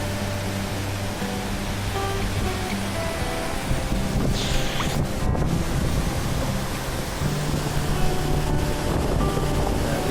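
Roaring spray and crashing water at the Dudhsagar waterfalls on a monsoon trek, a dense, steady wash of noise close by, with a faint hum running underneath and no talk.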